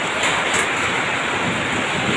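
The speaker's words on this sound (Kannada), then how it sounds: "ಚಳಿ ಲೋಕ ಮಳೆಗೆ ತಗಡಿನ ಆವಾಜ್, ಬೇರೆ ಏನಿಲ್ಲ" Rain drums on a tin sheet roof in a steady, dense, close roar that holds at an even loudness throughout, with no voices.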